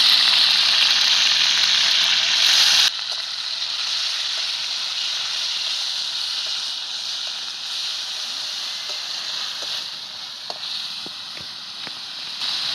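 Spice paste and coriander sizzling in hot oil for Maharashtrian vajri dal, a loud steady hiss that drops sharply after about three seconds and then continues as a softer, even frying crackle with scattered pops.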